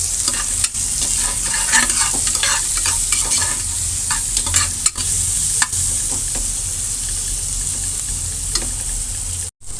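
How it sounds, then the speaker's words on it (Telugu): Onions and green chillies with a pinch of salt sizzle steadily in a hot pan, close and bright. Repeated scraping stirs run through the whole clip. "కొద్దిగా సాల్ట్ వేసి అయితే ఆనియన్ అయితే వేగించుకుందాం"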